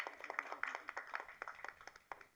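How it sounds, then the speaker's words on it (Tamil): A small audience at a Tamil film press meet claps in a steady patter of individual hand claps, moderately close, sustained for a couple of seconds. "அட கைதட்டுங்க"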